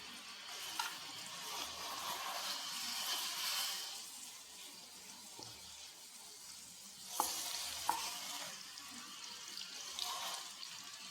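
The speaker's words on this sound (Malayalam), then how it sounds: "കുറേശ്ശെ പപ്പടം ഇട്ട് പൊള്ളിച്ചെടുക്കാം" Papadams puffing in hot oil for a Kerala egg curry, a soft hissing crackle that swells and fades in waves with a couple of sharp clicks, fairly quiet and close.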